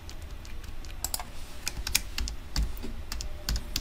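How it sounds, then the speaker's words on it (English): Typing on a computer keyboard: rapid, irregular key clicks close up, steady and alone with no voices. "let's say I can type Toyota here, like this"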